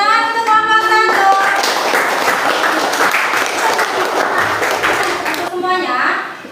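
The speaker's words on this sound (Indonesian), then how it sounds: "Tepuk tangan untuk kelompok 1." A classroom of children claps loudly together for several seconds in a steady burst of applause for the first group, with a teacher's voice briefly over it.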